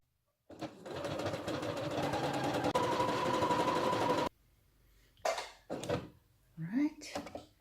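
A sewing machine sewing a blanket stitch hums steadily for about four seconds, close and even, then stops and is followed by a few short handling knocks and clatters.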